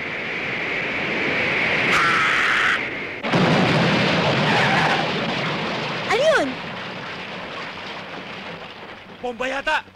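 A boss's car blown apart by a bomb: a sudden loud blast bursts out of a noisy background, followed by a heavy, crackling rumble, with shouting voices around it.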